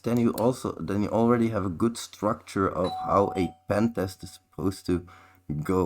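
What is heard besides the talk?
doorbell ringing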